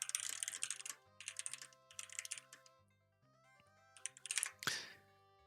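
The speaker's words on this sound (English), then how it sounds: "the keyboard I'm currently using now has brown switches" Keys clatter on a mechanical keyboard with brown switches in soft, thocky bursts of rapid typing, pausing briefly between runs, while video game music with a steady bass pattern plays underneath.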